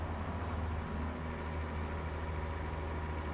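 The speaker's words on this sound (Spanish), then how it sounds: "Y los compañeros atrás que hacen rugir esos motores." Truck engines from the other drivers behind a Kenworth T680 hauling 34 tonnes of coffee in American Truck Simulator, a steady low idling rumble that holds evenly throughout with no talk.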